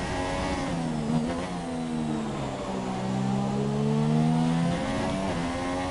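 A Formula 1 car engine in an F1 video game at the Brazilian Grand Prix, a steady high-revving whine with gear shifts sweeping up and down as the car crosses the line, loud and close.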